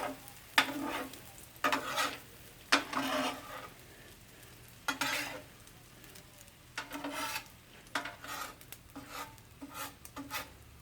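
Eggs frying on a Blackstone griddle, bursts of sizzling and scraping as a spatula stirs them in repeated strokes, close and moderately loud, no talk.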